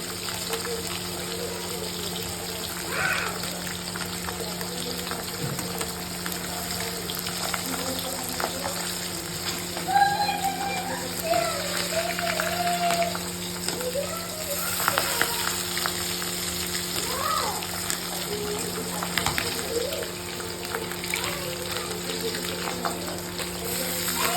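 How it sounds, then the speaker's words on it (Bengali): Soft, delicate pabda fish fry lightly in oil in a pan, giving a steady, close sizzle that holds at an even level throughout. "খুবই হালকা হাতে ভাজতে হচ্ছে।"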